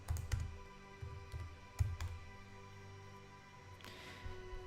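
Someone types a search on a computer keyboard at a desk: a few scattered keystroke clicks in short bursts, fairly quiet against a low steady room hum, with no one speaking.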